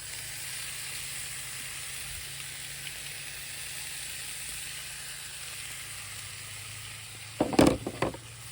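Continuous close sizzling of diced bacon frying in a pan on a Trangia camping stove, steady and even, with a couple of brief knocks of utensils near the end.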